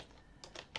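A few quick keystrokes on a computer keyboard while typing a command, faint clicks in a quiet room.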